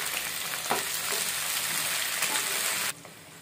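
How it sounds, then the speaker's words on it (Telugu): Chopped tomatoes fry in about two tablespoons of oil in a pan for tomato-coriander chutney, giving a steady, close hiss with a few soft stirring knocks before the sizzle suddenly drops away. "ఇదే ప్యాన్లో ఒక 2 టేబుల్ స్పూన్స్ ఆయిల్ వేసుకొని ఇందులో మనం ముందుగా కట్ చేసుకున్న టమాటాలు వేసుకుందాం"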